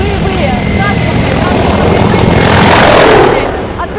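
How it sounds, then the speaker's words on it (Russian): An Azerbaijani army military helicopter thunders close by, its rotor chop and engine roar forming a loud, steady wash that swells slightly toward the end. "Военные вертолеты армии Азербайджана делятся на несколько категорий."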